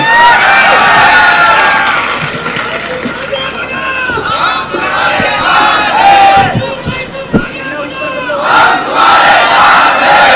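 A dense crowd at a political road show in Gujarat's Bhavnagar roars, shouts and cheers loudly and continuously, with clapping mixed in and an amplified voice rising over the din.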